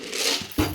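Dry sago pearls pour into a pot in a quick, close rattling patter that swells into a brief denser burst at the end.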